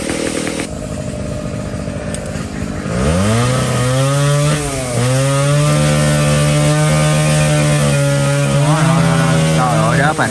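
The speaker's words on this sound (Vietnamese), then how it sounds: "Chỗ này ta đang cưa cây cái bắt đầu nó hơi ồn nha mọi người" A chainsaw cuts into a tree, first idling roughly, then revving into a loud, sustained whine that dips and rises as the blade bites the wood, close by, with no talk over it.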